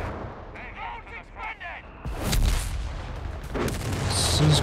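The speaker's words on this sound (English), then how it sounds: "Blasted there by the artillery" Artillery shells landing in a Company of Heroes 3 2v2 match, a heavy broadband blast around midpoint followed by continued loud booms and battle noise, with voices and game chatter faint earlier.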